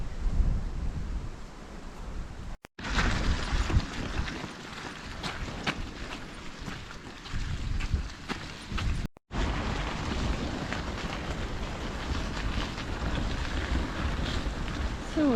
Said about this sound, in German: Der Wind rauscht wie ein Wildbach.